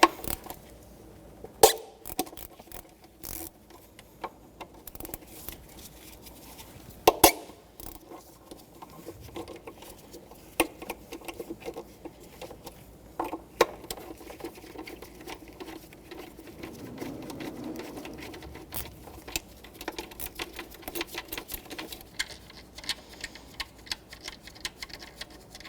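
Ratcheting wrench work loosens the intake manifold bolts on a 2014-2019 Toyota Corolla 1.8L four-cylinder, giving quiet, irregular clicks and occasional sharper taps up close, with no talking.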